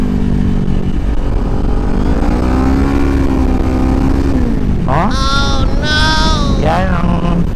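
A Kawasaki Ninja 400 engine is revved hard to high RPM, its tone climbing steadily and then jumping into sharp, loud, whining surges, with a nearby voice talking through parts of it.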